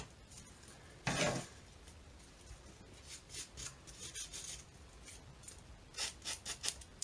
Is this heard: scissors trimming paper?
yes